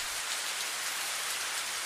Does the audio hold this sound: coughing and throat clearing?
no